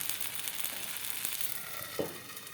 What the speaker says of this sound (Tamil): சுற்றி கொஞ்சம் எண்ணெய் ஊற்றிடலாம் நல்லெண்ணெய் ஊற்றிடலாம் ஊற்றிட்டு கொஞ்சம் மூடி வச்சு வேக விடலாம்